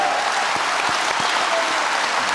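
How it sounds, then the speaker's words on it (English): A large audience claps steadily and loudly at a Vice President Pence political event in Billings, a dense, continuous wash of applause with a few deeper thumps beneath. "You're going to have to wait until they quit clapping."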